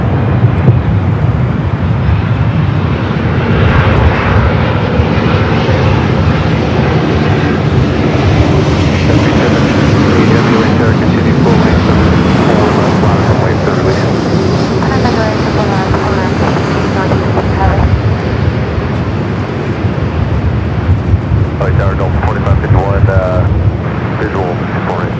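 Heavy Airbus 350 jet departing Los Angeles LAX roars continuously, a broad, loud rumble sustained throughout, with voices talking over it.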